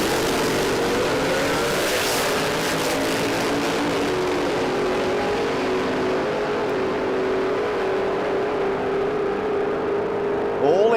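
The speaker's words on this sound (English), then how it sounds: "146 mile an hour for the XY Ute, all engine" A Holden XY Ute drag racing at Willowbank Raceway in Australia roars at full throttle in one long, loud, sustained engine howl, with a sharp burst of noise right at the end.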